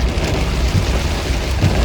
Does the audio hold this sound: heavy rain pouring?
yes